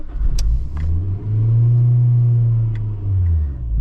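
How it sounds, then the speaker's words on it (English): An AE111 car engine revs up high from idle, climbing to a loud sustained rumble and then easing back down, heard close with no talk. "Not sure why I just revved up that high."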